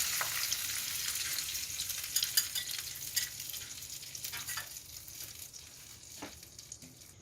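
Chicken for barberry rice sizzles hard in a pan as a special sauce goes in, a dense crackling fry with a few sharper spits. It is close and steady, easing slightly toward the end, with no talk.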